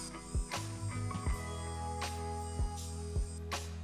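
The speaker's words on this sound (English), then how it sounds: "you can see this polisher is not cutting out and it is carrying on spinning" A Maxshine V2 cordless mini polisher runs steadily in rotary mode with a constant whine, broken by repeated clicking, ratchet-like knocks roughly every half second as it is pressed down.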